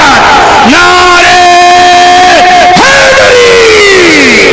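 A large crowd at a religious sermon roars slogans in unison, loud and close, with voices rising into sustained shouted tones that swell, break briefly, and surge again in a second wave.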